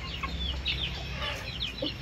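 Chickens cluck and chatter in a rush at feeding time, running and jostling for the feed, with scattered close squawks over a steady low farmyard hum.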